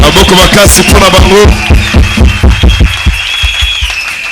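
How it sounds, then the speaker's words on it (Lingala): A church congregation at a prayer service cheers and claps loudly, a dense burst of crowd noise with shouts and music that thins toward the end, leaving scattered claps. "Est-ce qu'on peut acclamer très fort pour eux?"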